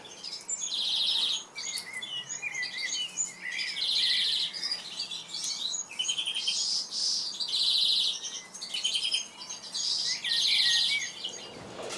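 Greenfinches, redpolls, canaries and hawfinches sing together in an indoor bird room, a dense continuous chorus of high twittering chirps and trills in repeated bursts over steady background hiss, with no voices.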